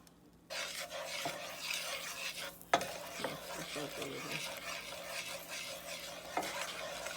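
Spoon stirring sugar and a pinch of salt into melted butter in a pan for a butter pecan pound cake, a steady scraping swirl with soft sizzle and a few sharper knocks against the pan, close by.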